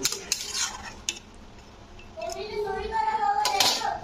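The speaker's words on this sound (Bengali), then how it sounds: "তো একটু নাড়া দিয়ে দিলাম।" A spoon scrapes and clinks in a pan as chitol fish curry simmering in a little water is stirred. Someone talks over the quiet clatter, and there is a faint bubbling simmer.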